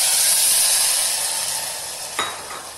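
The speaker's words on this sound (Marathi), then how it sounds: "आता आपण ह्याच्यामध्ये पाणी घालतोय" Water poured into potatoes in a pressure cooker, a short splashing hiss rising over steady pan sizzle late in the clip, close and fairly loud.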